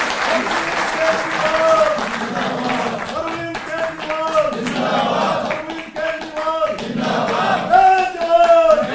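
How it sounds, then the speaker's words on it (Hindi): An audience at a Delhi government event for farmers, with the Chief Minister, breaks into loud sustained clapping while voices call out and chatter over it. "जोरदार तालियों से आप"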